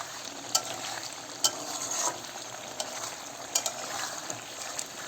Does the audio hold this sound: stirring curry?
yes